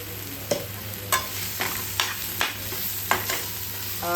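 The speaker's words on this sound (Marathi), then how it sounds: "तर आता हा मिरचीचा ठेचा तेलावरती थोडासा परतून घ्यायचा" Crushed green chili and garlic paste with mustard seeds, asafoetida and turmeric fries in oil, with a low steady sizzle and regular sharp spatula taps and scrapes against the pan, close and alone.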